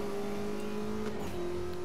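Porsche 918 Spyder Concept engine in Need for Speed Most Wanted (2012), a steady sustained drone with a slight pitch shift midway, heard on its own without talk.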